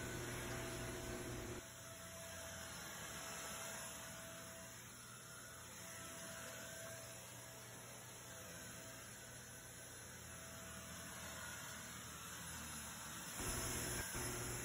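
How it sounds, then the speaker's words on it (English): A steady, noisy whooshing drone from a vacuum cleaner cleaning a carpet runs continuously throughout, with a slight change in tone near the start and end. "First thing first, vacuum your carpet."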